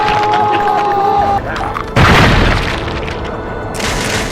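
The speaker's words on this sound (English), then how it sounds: "And it's just regular firing is pretty effective to begin with" Heavy gunfire and booming impacts from The Darkness II, a first-person shooter, come in loud bursts over a busy game soundtrack, with a voice speaking alongside.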